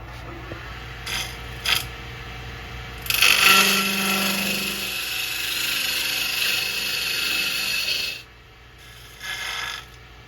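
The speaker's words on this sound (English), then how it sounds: "you could be drilling some of this out with a Forstner bit also" A power drill with a Forstner bit whirs steadily for several seconds as it bores into a wooden bowl, preceded by a few short mechanical clicks, then winds down and briefly restarts.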